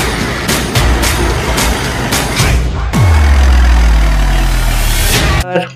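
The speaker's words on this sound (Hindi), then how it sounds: "ये हमारा ट्रैक्टर ग्रीन कलर का" A green toy tractor gives off a loud, close electronic engine sound, first a rough rumbling putter with rhythmic pulses, then a revving drone that falls in pitch before cutting off abruptly.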